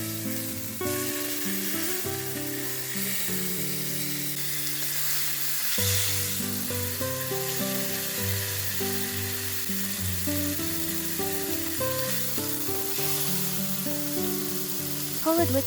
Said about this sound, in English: Polodwiczka is seared over high heat to keep it juicy and develop a golden crust.